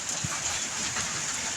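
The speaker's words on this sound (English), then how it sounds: "Is it hailing out? Oh, it's hailing." Hail comes down outdoors in a steady, dense patter with a hiss, like heavy rain striking surfaces, continuous and fairly close with no voices.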